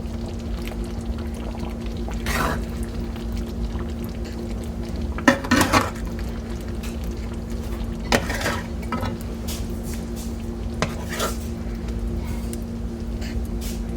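Meat patties sizzle in gravy in a pan with a few clinks and scrapes of a utensil as they are flipped, over a steady background hum.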